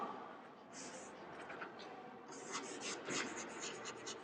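Chalk or marker strokes scraping across a classroom board, a run of short scratchy rubs in bursts, fairly close but faint, with no talking over them.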